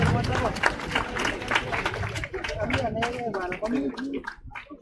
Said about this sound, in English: Thank you for those who are clapping.